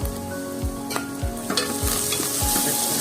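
Ginger paste frying in a pan for egg mutton soup, a steady close sizzle broken by repeated scrapes of a spoon stirring about every half second.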